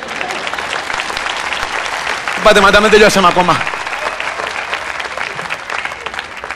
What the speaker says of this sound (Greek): δεν το λέω για να χειροκροτήσετε, αλλά αφού θέλετε χειροκροτήστε.